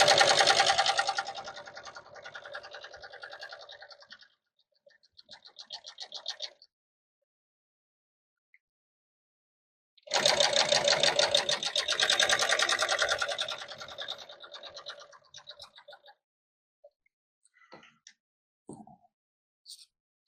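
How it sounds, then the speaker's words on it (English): A sewing machine set to a long stitch runs through auto upholstery in two bursts, a long steady whir, a short pause, then a second long run, followed by small scattered clicks and handling noises. "I'm going to put my machine on number 7 here, so it's a longer stitch."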